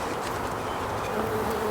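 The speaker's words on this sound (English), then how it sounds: "So here they are inside the hive. I mean, there are a lot of bees, right?" Honey bees swarm inside a hive, roughly three pounds of them from a package, giving a dense, loud, continuous buzzing drone up close with no voices.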